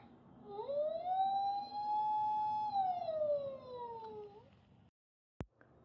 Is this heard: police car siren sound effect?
yes